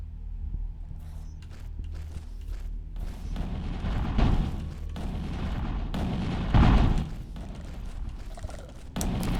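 A pressure plate trap goes off in the video game Aeon of Sands with heavy booming blasts and thuds, the loudest hits landing in the middle and near the end over continuous rumbling game noise.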